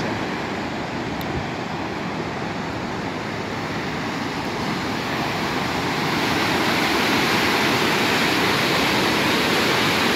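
A powerful waterfall in Belogorka, Kyrgyzstan roars steadily, a dense wall of rushing water that swells slightly louder toward the end, with no voices.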